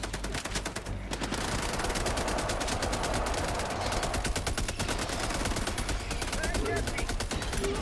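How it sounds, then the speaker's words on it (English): Machine gun fire in Helldivers 2 rattles in a dense, continuous rapid stream of loud shots, layered with other gunfire and battle noise throughout. "Quit standing in front of my machine gun"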